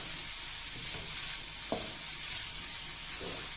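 A chicken spring roll filling mixture fries on a medium flame, a steady soft sizzle with occasional light stirring scrapes and clicks, close and fairly quiet.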